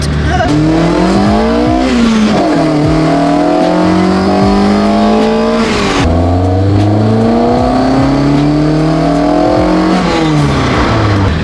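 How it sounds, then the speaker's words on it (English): A lowered Honda Civic EK with a built K20 engine drives through a residential estate, its engine loud and continuous from inside the car, revving up through gears with repeated rising pitch and shifts. "I've forgotten how to drive a Honda that's lowered."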